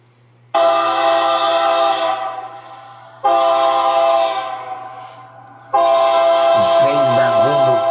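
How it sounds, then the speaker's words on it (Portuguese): A Rumo freight train locomotive pulling wagons sounds three loud, sustained horn blasts, each fading slightly, over a low steady engine drone, with a brief voice-like warble at the end. "Os trens da Rumo."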